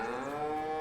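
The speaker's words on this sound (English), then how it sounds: "Oh no, the cows have got no water either." Cows lowing in the Farming Simulator 22 video game, one sustained, droning moo that is clear and steady and fills the short moment on its own.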